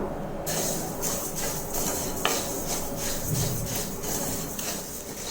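Coriander seeds dry-roasting in a kadai: a steady, rhythmic scraping of seeds being stirred against the pan, with a soft dry crackle of seeds popping throughout, close and fairly loud.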